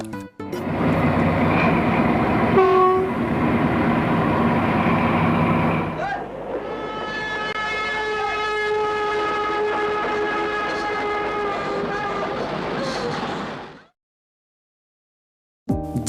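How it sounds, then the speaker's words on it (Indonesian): European-style horn of a lightweight M1500BB diesel hydraulic locomotive, sounding loud and sustained in long harmonic blasts for about thirteen seconds, one tone giving way to a second, then cutting to silence. "Lokomotif ini mempunyai klakson yang serupa seperti lokomotif Eropa saat itu."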